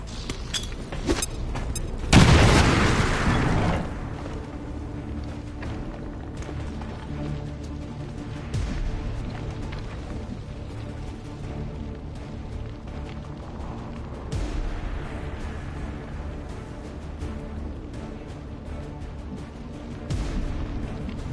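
Bomb blast in the video game X-Com 2: one loud, booming explosion with a broad rumbling burst, followed by a lower, continuous mix of game effects and faint scattered impacts.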